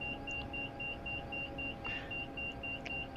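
A Bell 206 helicopter in the X-Plane flight simulator winds down after landing, with a low steady whine and rumble under a regular rhythmic beeping tone, fairly quiet and with no voices.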